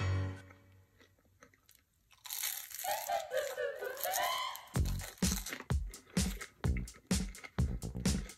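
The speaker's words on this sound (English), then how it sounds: "You hear how crunchy they are?" Seasoned homemade chips from a Pinsoon air fryer multi oven rustle as they are handled, then crunch loudly in a steady rhythm of close bites and chews with no talk over them.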